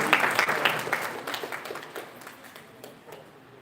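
Applause from a conference audience, lively at first with distinct claps, then thinning and fading away toward the end.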